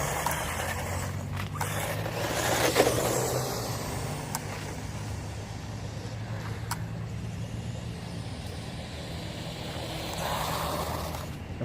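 GPTOYS McGruff S926 1:12 scale 4x4 RC truck drifting, giving a steady electric motor whine with scraping tire noise that runs throughout and swells near the end, with no talking.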